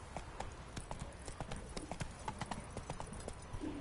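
Hooves of Roach, a horse in The Witcher 3, clip-clop in a steady walking rhythm, close and moderately loud, with a few faint extra knocks between strides.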